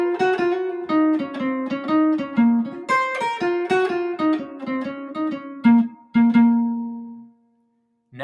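Minor lick on guitar in the jazz style, played over one chord. A quick, clean run of single notes settles onto a sustained final note, played alone and close.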